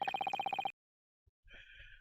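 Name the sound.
telephone ringing in video game Dai Gyakuten Saiban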